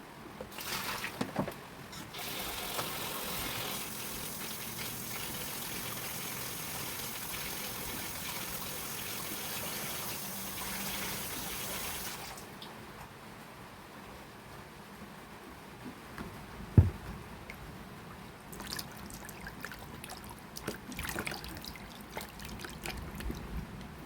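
Water pours and trickles in a steady stream for several seconds, then stops, followed by quieter handling noises and a few faint splashes close by.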